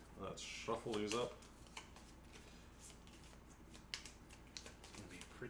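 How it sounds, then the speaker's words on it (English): A deck of Pandemic Legacy Season 2 board game cards is riffled in a quick, crisp burst close by. Soft handling rustles and light taps follow, with faint voices in the background. "Let's shuffle these up."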